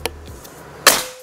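One loud, abrupt crack from a Mouser OD 32 PCP air rifle firing, with a short decaying tail and a small click before it.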